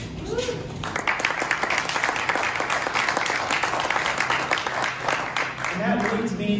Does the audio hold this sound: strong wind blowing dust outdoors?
no